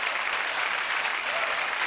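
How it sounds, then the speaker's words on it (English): Dense, steady applause from a television studio audience, broad and even throughout with no speech standing out. "I'm begging you to stop applauding every single entry in this list."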